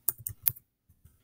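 Someone types on a computer keyboard while entering a web address, producing a short burst of a few close, crisp key clicks and then two fainter taps.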